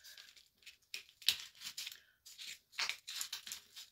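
Scissors snip through Easter wreath material in a quick series of close, crisp cuts mixed with crinkling and rustling, with short pauses between bursts.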